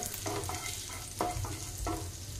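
Finely chopped ginger fries in hot oil for a hotel-style cashew masala, a faint low sizzle with three distinct stirring scrapes spaced through the moment.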